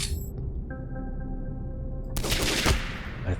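Gunfire in the video game Heart of the Machine: a steady electronic tone hums over a low background, then a short, loud burst of rapid shots crackles, trailing off into rumble.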